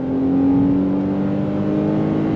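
Steady engine drone of a 2024 Nissan Pathfinder V6 with a 9-speed automatic under throttle, heard from inside the cabin as an even, moderately loud hum with a faint rise, no talk.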